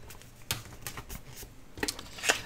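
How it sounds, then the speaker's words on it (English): Scissors trim glued, still-damp paper, giving a few brief snipping clicks at irregular intervals, close and soft over a quiet background. "We can take our scissors and just"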